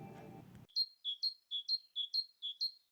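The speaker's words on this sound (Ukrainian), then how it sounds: "А синичка ще вміє сидіти на гілочці і співати." Great tit singing a clear, high, repeated two-note phrase, about ten notes in quick, even rhythm. It follows a short burst of muffled low sound and is heard alone.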